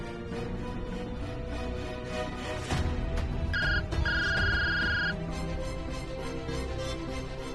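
A phone rings with an incoming call, a short electronic ringtone pattern sounding briefly midway over a background of music and ambient tones.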